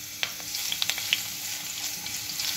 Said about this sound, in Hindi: लहसुन कुटा हुआ ऐड कर रही हूँ, कुटे हुए से इसकी खुशबू बहुत ही अच्छी आती है।